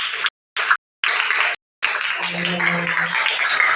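A classroom audience of children claps in a broadband burst broken by brief dropouts, with a voice faintly audible underneath toward the end.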